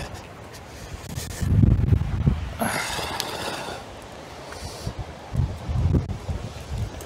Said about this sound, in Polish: Tak wieje.